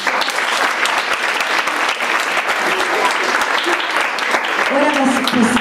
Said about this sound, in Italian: Un ringraziamento e un applauso a tutti i ragazzi di Bolzano.